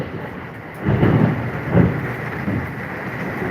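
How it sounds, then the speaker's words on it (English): Thunder rolls outdoors during a rainstorm, with two deep rumbling swells over steady rain hiss, fairly loud and with no voices. "Wow, thunder out here."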